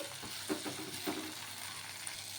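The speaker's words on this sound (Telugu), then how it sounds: "ఇలా ఒకసారి మళ్ళీ బాగా కలిపేసుకొని కొంచెం మగ్గే వరకు పెట్టుకుందాం" Tomatoes, green chillies and tamarind cook in a pan, producing a faint soft sizzle while a spoon stirs with a few brief scrapes and knocks.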